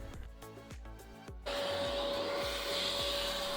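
A vacuum cleaner fitted with a narrow crevice brush cleans dust and sand from a window frame. A motor whine starts partway through, then holds loud and steady after some brief knocking bumps.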